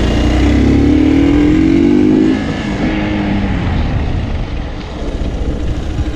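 A Hero Hunk 200R motorcycle engine on a short test ride, a steady loud roar with a rising whine early on that eases as the bike pulls away, heard alone.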